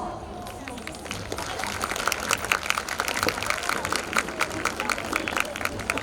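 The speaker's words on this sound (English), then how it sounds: "I would like you all to welcome Director Gyan sir with a huge round of applause" A school event audience gives a big round of applause to welcome the director, dense clapping building after the first second and continuing steadily, with crowd murmur mixed in.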